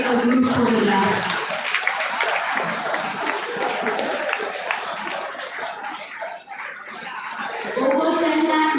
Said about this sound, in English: We will keep clapping as they take a group photograph.